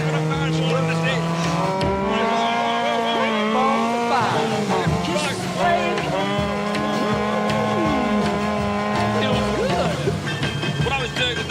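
A Vanwall racing car's tires squeal and skid as the rear steps out, a long sliding screech layered over the loud, wavering engine note for several seconds.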